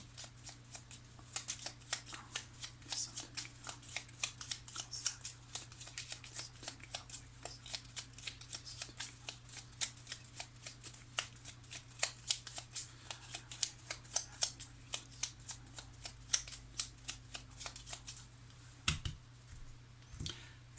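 Lenormand cards are shuffled by hand, a quiet, steady run of crisp flicking and snapping clicks repeating close up for about twenty seconds over a faint low hum.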